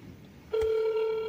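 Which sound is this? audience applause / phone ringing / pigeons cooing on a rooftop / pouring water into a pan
phone ringing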